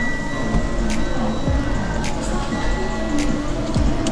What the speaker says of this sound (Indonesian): lebih ke fungsionalnya untuk membuka atap atau sunroofnya. Coba saya nyalakan lagi.